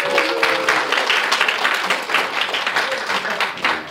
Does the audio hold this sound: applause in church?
yes